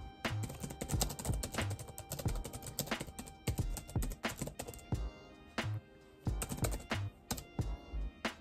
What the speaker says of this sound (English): I'm gonna sit and do some typing now